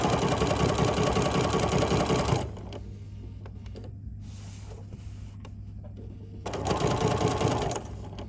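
Sewing machine running long basting stitches through fabric for a Tula fabric tray, a loud steady whirring burst for about two seconds, a pause with a low hum, then a second stitching run near the end.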